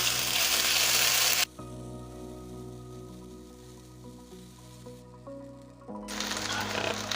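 Ginger-garlic paste frying in a pan gives a loud, bright sizzle at first, then drops to a softer simmer with a steady low hum and faint stirring, before the sizzle rises again near the end.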